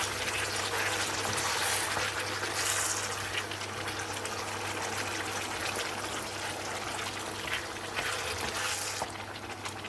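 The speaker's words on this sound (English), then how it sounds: "Add 1 cup of water." Water pours steadily into a pot of beef karahi, a continuous close trickle and gush with a low steady hum underneath, no voices.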